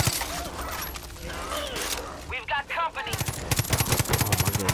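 Rapid automatic gunfire from Far Cry 5 as enemies are shot, a dense rattling stream of close, loud shots that quickens into a steady rhythmic burst near the end, over a busy game mix.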